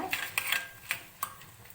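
A spoon scrapes and clinks against a pan while red chillies and a small lump of asafoetida are stirred together for tamarind rice, a handful of light, sharp metallic taps spaced unevenly and close by.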